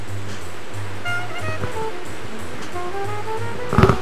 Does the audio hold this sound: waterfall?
yes